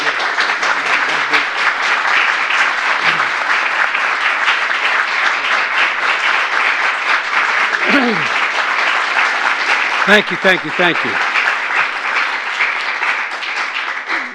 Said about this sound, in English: I'm sure you're clapping because I finally showed up.